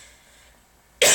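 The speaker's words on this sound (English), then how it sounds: "I've had a really bad cough" A single sharp, loud cough bursts out after a second of near silence.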